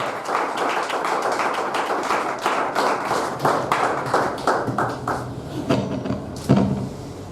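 Hand claps from a seated audience at a Nigerian Football Coaches Association course launch in Oyo form a sharp, fairly loud patter of nearby claps, thinning toward the end into a few scattered, isolated smacks.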